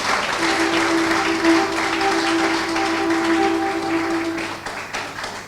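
Audience applause for the president at an official launch ceremony, a dense, steady patter of many hands clapping that carries on continuously before fading slightly at the end.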